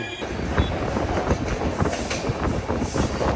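The Shimoga Intercity train rolls out of Bhadravati station, heard from on board as a loud, continuous rumble with rhythmic wheel clatter and faint metallic squeals.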